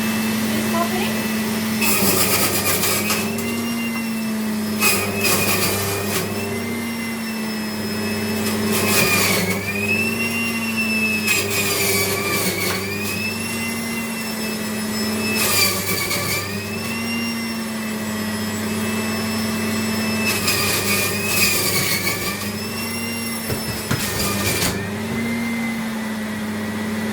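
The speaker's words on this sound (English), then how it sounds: "I'll just turn on my blender." A blender making celery juice whirs steadily with a loud motor hum, its pitch dipping and rising in repeated pulses over almost half a minute.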